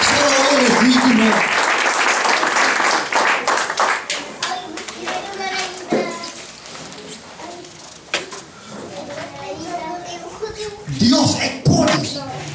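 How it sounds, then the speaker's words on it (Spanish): Applause and scattered clapping from a church congregation, loud at first and then thinning into lighter patter with voices and shuffling, rising again in a short burst near the end. "Démosle un aplauso porque Él merece toda gloria, toda honra, toda alabanza"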